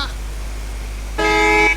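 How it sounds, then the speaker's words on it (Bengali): A single loud, sustained horn blast from a bus in a video game, bright and brassy, sounds for about half a second over a steady low engine hum. "ও হর্ন তো বাজে দেখি"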